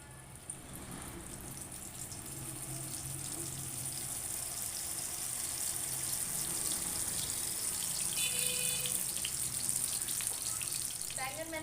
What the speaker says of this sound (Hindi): अब मैं एक एक करके सारे बैंगन डालती रहूंगी ऑयल में।